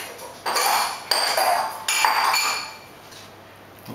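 A knife and fork clink against a dish while baked barramundi and rice are served, three bright metallic taps in quick succession, each ringing briefly before fading into near silence.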